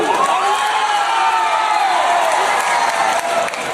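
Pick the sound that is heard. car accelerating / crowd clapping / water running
crowd clapping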